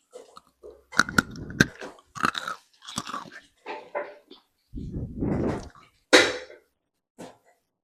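Loud, close crunching on crispy deep-fried murukku, a homemade Diwali snack, with a series of sharp bites followed by steady chewing, repeated crackling bursts and short pauses between mouthfuls.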